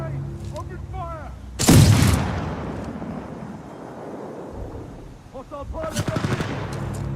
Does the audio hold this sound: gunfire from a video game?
yes